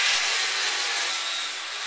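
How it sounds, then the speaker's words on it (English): Sanding out the bottom section of an iron railing during installation, a steady, close abrasive rubbing hiss that runs continuously without pause. "we're going to sand out this bottom section right here and make this thing fit just right"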